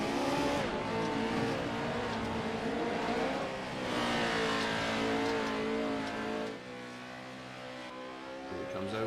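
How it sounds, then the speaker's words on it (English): Green Jaws Racing trophy truck in a racing video game, its engine revving steadily at high pitch with shifting gear tones, loud and continuous, dipping briefly near the end, while commentary talk runs faintly underneath. "Here he is in the green Jaws Racing trophy truck."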